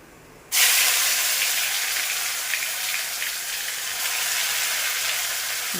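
A ground paste of tomato, onion and garlic hits hot oil in a pan with a sudden loud burst of sizzling that settles into a steady, close frying hiss.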